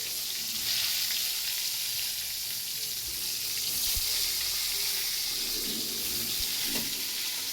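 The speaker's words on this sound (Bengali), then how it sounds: "আমি এখানে বেগুনগুলোকে তুলে দিলাম কড়াতে" Eggplant slices fry in hot oil in a kadai, giving a loud, steady, close sizzle with a constant crackling hiss and a few faint clinks, with no voices.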